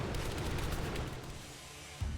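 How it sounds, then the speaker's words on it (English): Dense, continuous rattling of machine guns and cannons fills a World War II air battle between a P-38 fighter and B-17 bombers, ending in a sharp thump. "friendly machine guns and cannons will open up upon them"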